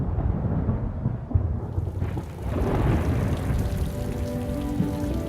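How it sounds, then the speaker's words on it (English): A thunderstorm rolls in over Botswana at the end of the dry season: steady heavy rain patters on surfaces while low rumbling thunder swells beneath it, growing denser partway through, with no voices. "storm clouds are massing."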